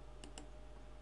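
Two quiet, sharp clicks about 0.15 seconds apart, a mouse right-click in FL Studio 8 music software over a steady low electrical hum, with no talking.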